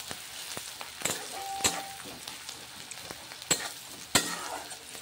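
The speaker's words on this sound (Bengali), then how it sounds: "এই তেলের মধ্যে পেঁয়াজটাকেও দিয়ে ভালোভাবে ভেজে নেব, যতক্ষণ না এই রঙটা চেঞ্জ হচ্ছে।" Onions frying in oil over a medium gas flame for egg curry hiss steadily up close, broken by sharp clinks and scrapes of a spatula stirring the pan.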